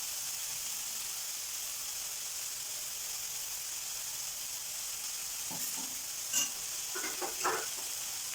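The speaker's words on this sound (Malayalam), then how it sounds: "ഇതുകൊണ്ട് ഇളക്കിയാൽ സൗണ്ട് പക്ഷേ കുറച്ചേ വരും." Coconut paste being stirred into chaya mansa thoran in a hot pan: a steady bright sizzle and hiss throughout, with a few soft scraping stirs near the end.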